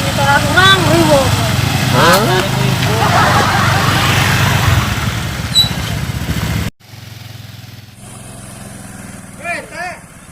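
A noisy motorbike engine putters and revs loudly at close range under ongoing conversation, then cuts to a quieter, steadier idle with more talking.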